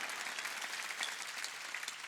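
A church congregation at a Sunday worship service clapping their hands together, a dense continuous patter of applause heard from a short distance, with no speech.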